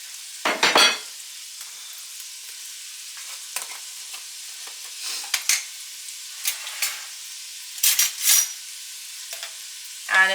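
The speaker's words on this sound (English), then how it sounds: "Let that saute." Onions sautéing in a pan: a soft, constant sizzle runs throughout, broken by brief, sharper bursts of spoon scraping and crackle at irregular intervals, close by and with no one speaking.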